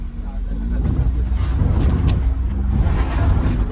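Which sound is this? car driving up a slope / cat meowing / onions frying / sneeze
car driving up a slope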